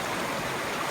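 River flowing through Dovedale in the Peak District, a steady broadband rush of moving water, close and unbroken for a brief moment.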